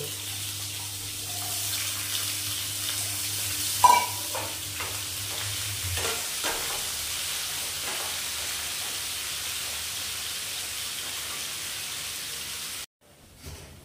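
Potato pieces frying in oil with cumin as they are stirred in a pan, a steady close sizzle with scraping stir strokes and a few clinks, continuing without talk until it stops near the end.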